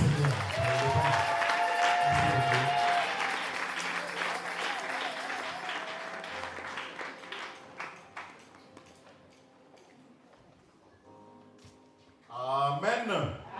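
Wedding guests in a worship setting clap for the Lord: clapping rises under voices and tones at the start, thins to scattered claps, then fades before a voice returns.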